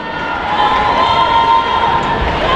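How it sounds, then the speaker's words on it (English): An audience claps and cheers for a pair of women dancers at the Hura Tahiti 2017 Tahitian dance competition, a brief, loud burst of applause with a thin tone running beneath it. "a round of applause for these lovely ladies"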